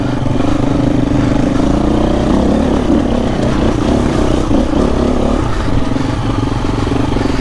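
A KTM two-stroke dirt bike engine drones loudly and continuously while riding rough off-road terrain, holding a steady buzzing pitch with small throttle surges throughout.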